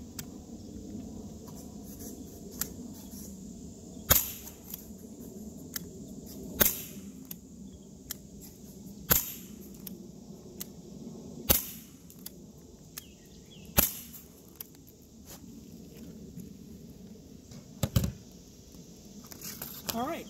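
A Gamo P-430 air pistol fires lead pellets, about eight sharp snapping shots spaced several seconds apart, with quieter handling clicks between them over a steady background hum.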